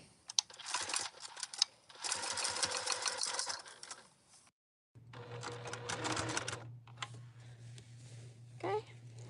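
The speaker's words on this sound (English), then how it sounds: "I'm actually going to top stitch all the way around, making this one piece" A sewing machine topstitches fabric for a wallet in steady bursts, pausing midway, then runs again over a low steady hum, with a brief chirpy sound at the end.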